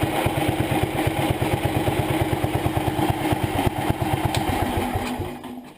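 A 1975 Sears Suburban ST16 lawn tractor engine runs steadily up close with a fast, even low chugging pulse and mechanical clatter, then dies away in the final moment.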